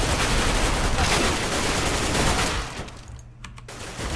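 Dense, sustained gunfire from a Counter-Strike match on the Cobblestone map, loud and continuous for most of the stretch, then thinning into a few sharper shots near the end.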